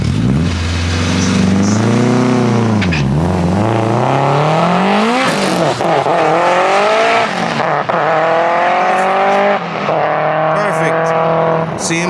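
A 500 hp K-Series hatchback race car's engine revs hard and close, with pitch dipping and climbing through repeated throttle pulls, and someone talking over the engine.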